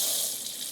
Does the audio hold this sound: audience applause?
no